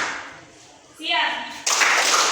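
Classroom clapping game with a teacher and pupils, a voice calling out over a sudden burst of many hands clapping together at close range.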